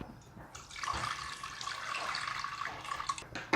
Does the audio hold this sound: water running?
yes